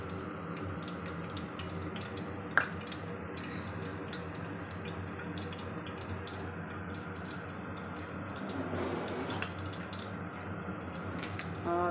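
Cooking oil, about one and a half cups, poured into a pot for chole, giving a steady liquid pouring wash through the whole stretch, with a brief clink near the start and no talking.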